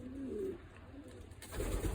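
Soft, low pigeon coos repeat a few times in a quiet indoor pigeon loft, with faint shuffling and rustling in the background.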